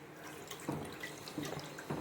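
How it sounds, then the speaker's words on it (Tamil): Water poured into a pressure cooker holding squid pieces, a close, quiet trickle and splash with a few brief louder gushes. "இது 3 அளவு தண்ணி போட்டுட்டு"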